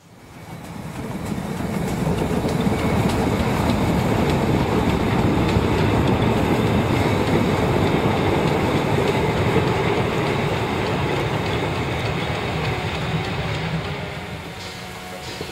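A narrow-gauge steam freight train on the Zittau narrow-gauge railway rolls past close by, with a loud sustained rumble and clattering wheels on rails that fade in and out over the run, with no voices.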